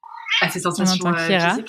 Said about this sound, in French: C'est mon chat, mon lynx.